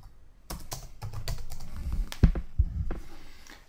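Quick clicking keystrokes on a computer keyboard come in a short irregular burst, close and fairly quiet, with a couple of heavier taps near the end and no voices.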